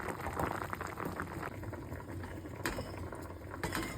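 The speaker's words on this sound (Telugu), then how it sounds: "నీళ్ళల్లో కొంచెం ఉప్పు వేసి ఉడకబెట్టాలి." Snake gourd pieces simmer in salted water at a low, steady bubble, soft and close, with a few sharper clicks now and then.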